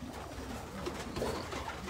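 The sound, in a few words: racing pigeons cooing in a loft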